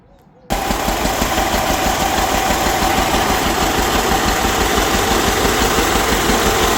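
A repaired tractor's engine idles in a loud, steady, rapid diesel chug that starts abruptly after a short quiet moment and runs evenly to the end.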